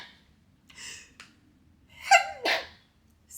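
A person sneezes close by, with a few sharp breathy intakes first, then two loud sneezes in quick succession and a faint breath afterward.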